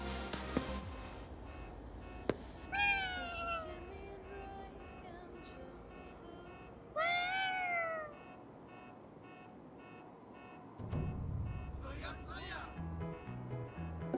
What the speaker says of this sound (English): Is that a cat? Technically, it's a yokai.